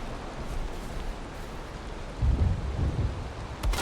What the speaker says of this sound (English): And I gotta love that it's raining again.